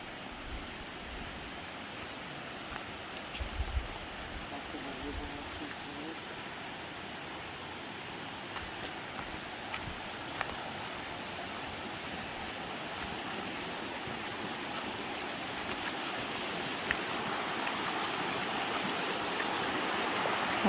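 A river flows past a dispersed campsite in the Gladwin area, a soft, constant rush of moving water heard steadily for the whole stretch with faint occasional ticks and no talking.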